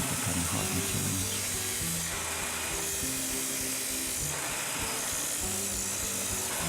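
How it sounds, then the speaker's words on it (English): Industrial cut-off saw with an abrasive disc grinding through hard material, a harsh high whine and gritty rasp rising and easing in passes, moderately loud and steady without talk. "this is where this abrasive disc comes in very handy for cutting hard materials"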